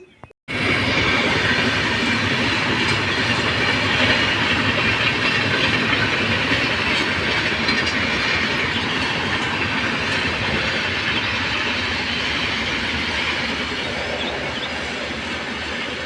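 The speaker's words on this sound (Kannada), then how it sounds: "ನಮ್ಮ ಮಠದ ಹಿಂದನೇ ಟ್ರೈನ್ ಹೋಗತ್ತೆ ನೋಡ್ರಿ" A train rumbles past close behind a monastery, a loud steady roar of wheels and carriages lasting a long stretch without pause.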